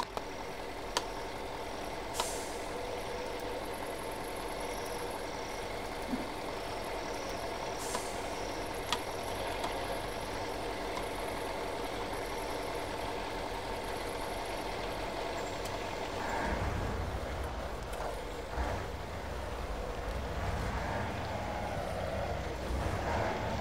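A truck engine idles in the Spintires off-road driving game, a steady low rumble with occasional sharp clicks, shifting to a rougher, heavier drone near the end; no voices.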